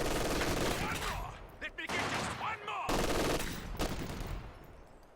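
Machine gun fire rattles in a Company of Heroes 2 1v1 match, dense bursts of rapid shots overlapping with other gunfire, loud and close, broken by a couple of brief pauses.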